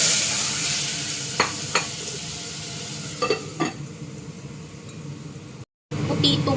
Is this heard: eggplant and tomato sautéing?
yes